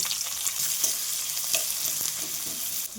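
Chopped garlic, ginger and onion frying in a pan for chicken chowmein, a steady close hiss of sizzling oil with occasional scrapes and clinks from stirring, no voices.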